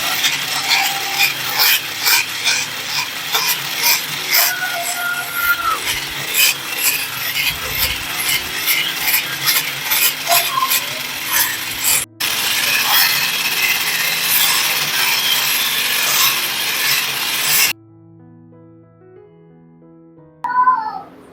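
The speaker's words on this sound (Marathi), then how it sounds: "आता आता क्रीम मी फेटून घेते" Cream being whipped for mango ice cream makes a fast, rhythmic scraping and whisking that continues steadily, pauses briefly, then goes quiet near the end before a few short clinks.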